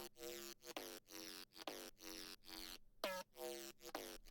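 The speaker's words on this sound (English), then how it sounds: "the last instance is a really heavily top distorted bass" Heavily distorted 808 bass hits with top-end crunch, a series of loud gritty notes with pitch glides, looping in a steady rhythm and heard alone without any talking.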